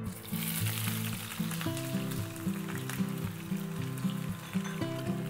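Sliced onions frying in a pan after garlic, a soft continuous sizzle with faint crackles, heard quietly alone.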